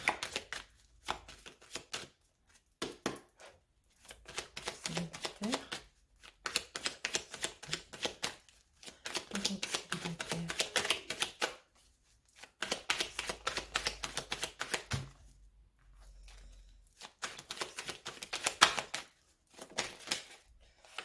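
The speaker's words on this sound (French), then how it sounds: "on va commencer du coup à prendre 3 cartes de l'oracle des miroirs" Cards from the Oracle des Miroirs deck being drawn and laid down in bursts of crisp shuffling and snapping, separated by short quiet pauses, close and fairly soft.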